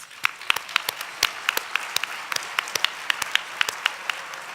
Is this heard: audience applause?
yes